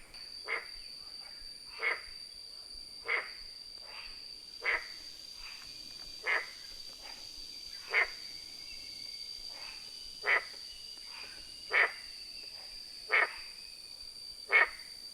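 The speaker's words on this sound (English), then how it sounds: "Noisy little frogs in this bowl of water here," Small frogs croak in a bowl of water outdoors near a mountainside in Chiang Mai, giving single sharp calls about every one and a half seconds over a steady insect-like whine in a quiet setting.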